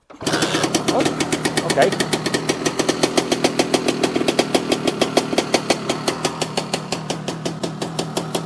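A Lambretta scooter fitted with a BGM Pro MZ30 exhaust, left standing for weeks, catches and settles into a rhythmic two-stroke putter with sharp regular pops, close and fairly loud, with a short spoken reaction early on.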